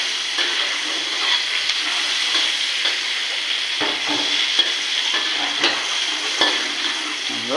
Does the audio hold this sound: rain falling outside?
no